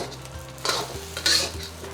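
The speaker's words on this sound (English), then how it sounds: "dig in there with your spatula and break up the rice" A spatula stirring and breaking up egg fried rice with Chinese sausage in an oiled wok, two sharp scraping clatters over a continuous sizzle, close and fairly loud, no talk.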